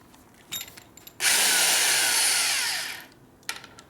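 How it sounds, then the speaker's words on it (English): A loud large power drill whirs steadily for about two seconds while drilling holes during repair of a 1972 Harley-Davidson XL Ironhead Sportster bobber, then winds down; brief knocks and clatter before and after. "we got the bigger drill for drilling bigger holes"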